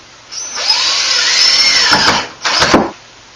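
A power drill whines close and loud as it drives screws into bathroom trim during a remodel, with one long run that rises and then falls in pitch, followed by a short second burst.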